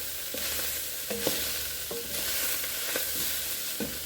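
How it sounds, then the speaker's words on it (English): Red beer chili in a pot gets a good stir, with soft repeated scrapes and knocks of the spoon over a low, quiet simmering sizzle. "give that a good stir so it doesn't burn too bad"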